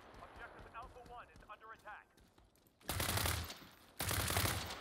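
M416 rifle fire in the World War 3 video game comes as two dense bursts of rapid automatic shots in the second half, following a stretch of someone talking.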